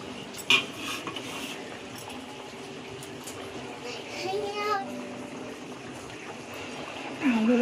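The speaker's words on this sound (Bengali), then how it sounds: "এবার আমি মাছ ভাজাটা দিয়ে দেবো।" Fried fish pieces go into a mustard-and-potato fish curry in a pan, with metal utensil clinks and scraping as it is stirred, under steady low background noise with a few louder knocks.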